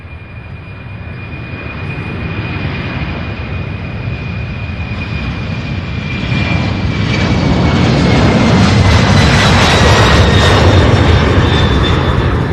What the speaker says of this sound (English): Beautiful takeoff, goodness.